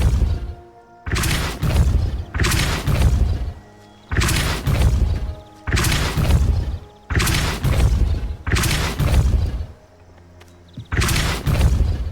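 Spell-casting effects from Hogwarts Legacy, the Accio, Incendio and Repulso spells, land as a string of loud, bursting whooshes and booms. Seven or eight blasts follow one another in quick succession, with brief gaps between them.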